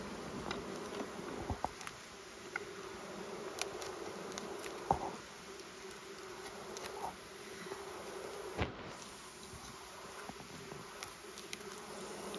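Honey bees in an open hive with a honey super, a steady soft buzzing hum with individual bees droning past close by, no talking.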